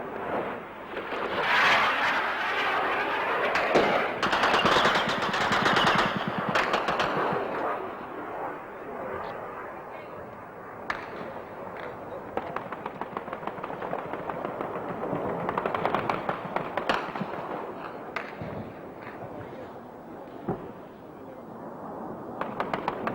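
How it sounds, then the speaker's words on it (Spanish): Dense, continuous anti-aircraft gunfire booms and rattles throughout, with sharp individual reports standing out against a constant roar of distant firing. "Contestan nuestras baterías antiaéreas y se ve el refulgir de sus disparos en el aire."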